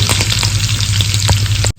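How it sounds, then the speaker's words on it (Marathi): Mustard seeds and cumin crackling in hot oil for a tempering for a bottle gourd vegetable dish, a close, steady sizzle dotted with rapid popping crackles, with no talk. "मोहरी तडतडली की मग जिरा जिरा टाकायचं तडतड तडतडल्याचा आवाज येतो"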